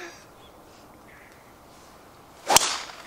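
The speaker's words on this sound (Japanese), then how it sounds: "あ、木の音鳴った。" A golf driver with a wooden-sounding head strikes the ball on an outdoor course, one sharp, loud crack near the end after a quiet stretch of faint ambient noise.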